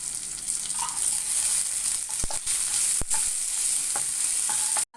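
Onions and curry leaves sizzling steadily in a hot pan for chow chow poriyal, with occasional close scraping taps of a spatula as they are stirred.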